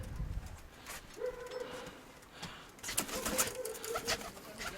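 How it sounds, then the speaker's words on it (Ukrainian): Pigeons coo in a few soft, rolling calls, close and fairly quiet, with a little rustling between them and no talk. "Ці голубки."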